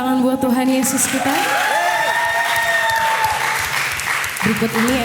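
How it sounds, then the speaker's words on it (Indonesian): A youth audience at a church Christmas worship night breaks into sustained applause with some cheering, loud and close, while sustained musical tones ring through and over the clapping. "Sekali lagi beri tepuk tangan buat Tuhan Yesus kita."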